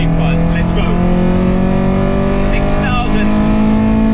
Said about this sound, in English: As soon as you stomp on that loud pedal, that sound that comes from the intake, oh man, it's amazing.